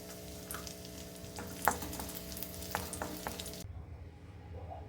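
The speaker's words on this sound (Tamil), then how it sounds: "இதே நெய்யில் கிஸ்மிஸ் வறுத்துக்கிறேன்." Raisins frying in ghee after cashews for a Janmashtami aval dish, a faint low sizzle with a few scattered clinks and stirring scrapes, close by and quiet, with no talking.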